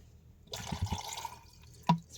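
Water is poured into a rock tumbler barrel holding rocks to be washed, making a short, faint splashing pour with a few drips and small sloshes at the end in a quiet room.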